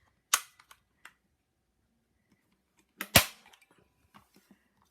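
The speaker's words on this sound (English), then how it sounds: "And this is a little loud and noisy, so I'll just do a couple more staples." A staple gun drives staples into stretched background fabric, a sharp snapping burst followed by a few lighter clicks, then a second louder double snap a couple of seconds later, close up and with no talking.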